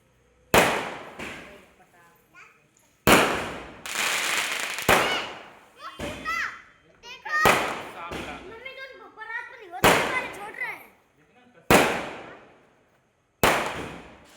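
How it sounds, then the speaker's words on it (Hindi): Firecrackers set off outdoors during a Tulsi Vivah Ekadashi celebration, about seven loud sharp bangs at irregular intervals, some followed by crackling and fizzing bursts, with people talking between blasts. "उधर छूट तो गए पटाखे"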